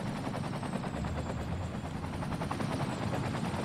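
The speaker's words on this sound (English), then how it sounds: "The helicopters are seriously getting on this now." Firefighting helicopters in the Cities: Skylines video game make a continuous fast rotor chop, a dense rhythmic thudding that stays steady and fairly loud over low background rumble.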